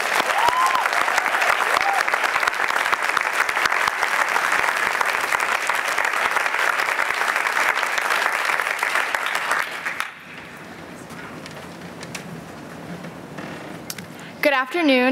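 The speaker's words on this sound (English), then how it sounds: "a big round of applause for all the winners." A large audience applauds the award winners with dense, steady clapping for about ten seconds, then it stops abruptly and a quieter room follows with faint murmuring.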